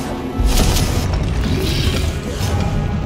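A Confringo fire-blast spell in Hogwarts Legacy, a deep booming explosion with low rumble and mechanical clatter, sustained and loud throughout, no voices on top.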